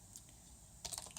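A few quick computer keyboard key presses land in a brief cluster near the end, faint and close, after a short stretch of quiet room tone.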